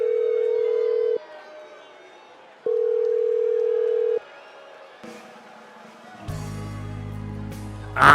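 Phone ringing inside the WWE 2K25 video game: two long, steady electronic ring tones in a repeating pattern, followed by quieter background murmur and a louder burst of crowd-like noise at the end.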